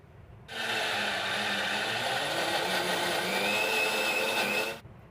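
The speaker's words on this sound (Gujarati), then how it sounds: "આ રીતે મેં 3 આઈસ ક્યુબ એડ કરી દીધા છે અને હવે આપણે દાળને પીસી લેવાની" A kitchen mixer grinder whirs as it grinds soaked urad dal with a few ice cubes for dahi vada batter, starting abruptly, running loud and steady for about four seconds, then cutting off, with no talking.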